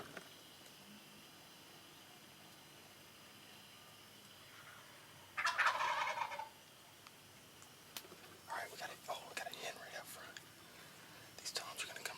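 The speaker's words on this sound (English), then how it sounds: "they're gobbling all over" Wild turkeys gobbling during a spring hunt in Kansas, heard as a few faint-to-moderate bursts at a distance over quiet outdoor background hiss, one louder gobble followed by scattered calls, with some soft whispering between them.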